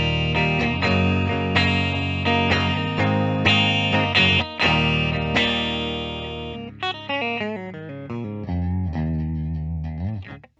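Distorted electric guitar, a 2021 Gibson Jerry Cantrell "Wino" Les Paul on the middle pickup position, playing sustained chords, then shifting to brighter picked single notes and arpeggios, loud and close with no talking.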